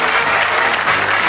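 Steady, dense applause from a studio audience at a 1986 British TV game show, loud and close, filling the whole moment without any voices.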